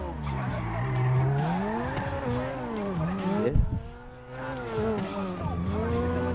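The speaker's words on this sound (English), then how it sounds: "I just like the way this car sounds" A revving car engine in GTA 5 Online, with harmonic tones rising and falling as it accelerates, joined by tire squeals, with voices talking over it.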